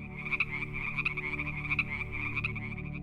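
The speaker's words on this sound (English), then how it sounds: "often heard through their distinctive croaks and ribbits" Frogs croak steadily in a dense chorus, the calls overlapping in quick pulsing bursts at moderate volume with no other sounds.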